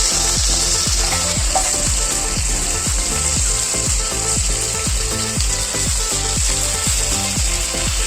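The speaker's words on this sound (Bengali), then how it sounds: "নুন হলুদ মাখিয়ে রেখেছিলাম চিংড়া মাছগুলো একটা একটা করে ভেজে নিচ্ছি" Shrimp rubbed with salt and turmeric fry in hot oil, one by one, giving a constant bright sizzle with a steady rhythm of ticking pops underneath, close and loud, no voices.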